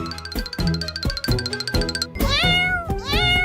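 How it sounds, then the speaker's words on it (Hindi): Cartoon cat and kittens meowing in a rapid run of bright, tonal mews, with a second stretch of rising, sliding cries toward the end, loud and close over a busy musical backdrop with faint chime-like tinkles. "अर्जुन, चलो बिल्ली और उसके बच्चों को बाहर निकालते हैं।"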